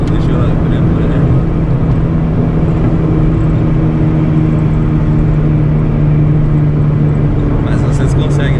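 A 1997 Chevrolet Corsa Wind MPFI cruising on a highway as the throttle opens, a loud steady engine drone with heavy road and wind noise throughout.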